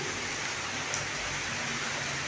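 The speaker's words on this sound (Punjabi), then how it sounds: "ਹੁਣ ਵੀ ਇੰਨਾ ਮੀਂਹ ਹੈ ਜ਼ਿਆਦਾ ਝੜੀ ਲੱਗ ਗਈ" Heavy rain pours steadily, a dense, even roar of falling water with no pauses.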